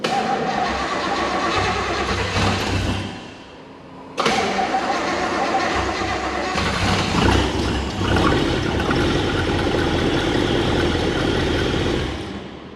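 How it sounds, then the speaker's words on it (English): A Chevy Nova with a 383 stroker engine cranks with the choke wired open, cuts out briefly, then catches and runs at a rough, loud, sustained idle with revs rising and falling. "try to crank her up one more time."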